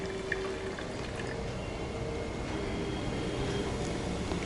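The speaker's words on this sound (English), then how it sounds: "Can you hear the fizzing noise? That is because of the carbon dioxide." Vinegar poured onto baking soda in a homemade volcano model fizzes with a steady, dense crackle of bursting carbon dioxide bubbles, quiet and continuous throughout without any talking.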